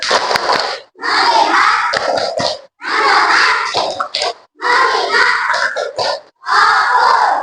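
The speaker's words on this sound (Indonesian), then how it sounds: "Ayo kita tepuk fokus." Schoolchildren in a classroom chant and clap together in the rhythmic 'tepuk fokus' routine, with four or five loud bursts of voices and claps separated by short pauses.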